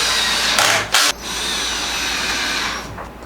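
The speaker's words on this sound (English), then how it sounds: "Drill, drill." Power drill driving screws to fasten legs onto a wooden bed frame built for a camper van, two short loud whirring bursts followed by a sustained drill whine close by.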